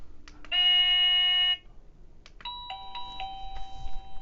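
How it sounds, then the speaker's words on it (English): An Avantek wireless doorbell receiver plays a chime ringtone: a sustained electronic multi-tone ring for about a second, a short pause, then a second different tone pattern, clear and close, with faint handling noise between. "You can change the many kind of ringtones by this button on the side."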